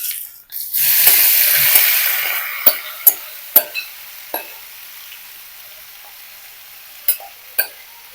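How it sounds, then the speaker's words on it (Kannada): Marinated brinjal pieces tipped into a hot pan burst into a loud, close sizzle that gradually fades, followed by several sharp clinks of a spoon against the pan, with no voices. "ಈಗ ಇದಕ್ಕೆ ಕಲಸಿಟ್ಟಿರುವ ಈ ಬದನೆಕಾಯಿಯ ಹೋಳುಗಳನ್ನ ಹಾಕೊಳ್ತಾ ಇದ್ದೇನೆ."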